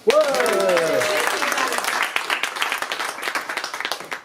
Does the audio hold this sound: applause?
yes